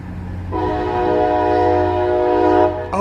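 A New Haven line train sounds its horn as it passes: a loud, sustained multi-tone blast lasting about two seconds over the low rumble of the train, with a sharper sound cutting in at the very end.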